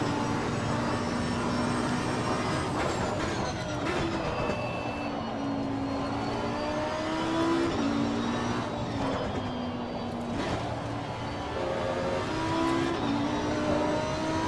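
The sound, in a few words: GT3 race car engine revving, Assetto Corsa Competizione video game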